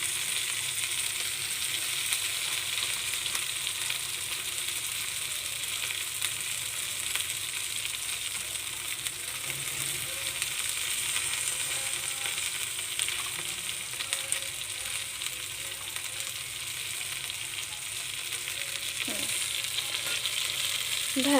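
Okra sliced and dropped into a hot pan, frying with a constant, even sizzle that runs for the whole stretch, with a faint scrape or two toward the end and no talking.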